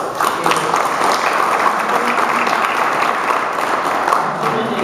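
An audience at the Rally dei Laghi 2014 event gives sustained applause, steady dense clapping filling the whole stretch at an even, loud level with no voice over it.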